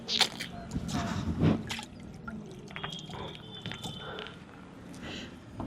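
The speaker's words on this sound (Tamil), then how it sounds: "மழை தண்ணி. மழை தண்ணி." Irregular drips and splashes of rainwater, some close and sharp, others softer, with a faint murmur of voices and a few high tones.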